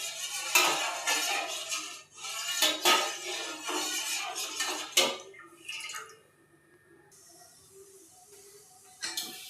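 Milk poured over ice cream in a metal pot for kulfi, heard as clattering pot and utensil clinks with liquid sounds, loud at first then quieter pouring near the end.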